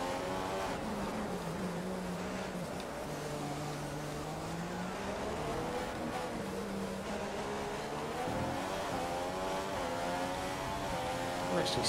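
F1 race car engines in the F1 2015 video game at the Monaco circuit, a loud continuous high-pitched engine whine that rises and falls with gear shifts, steady throughout with several cars running close together.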